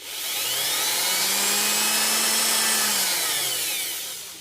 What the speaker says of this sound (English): that's all 8 holes drilled